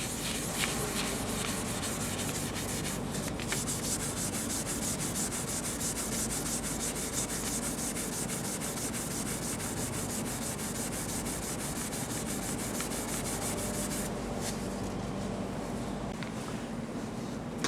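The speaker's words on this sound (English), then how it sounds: "I sanded the ridges out." Sandpaper rubs steadily across cocobolo wood finished with super glue, flattening ridges in the finish, a close, continuous dry scratching that stays even for the whole stretch.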